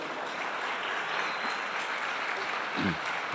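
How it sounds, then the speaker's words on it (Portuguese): A church congregation applauds during a worship service, a steady wash of many hands clapping in a large room at moderate level, with a brief voice near the end. "pode aplaudir o Senhor"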